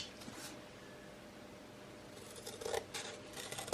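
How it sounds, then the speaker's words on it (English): Faint cutting of thin slivers off the side of a bar of soap, with soft scraping and snipping sounds that grow a little louder near the end over a steady background hiss. "I'm just going to cut some slithers off the side"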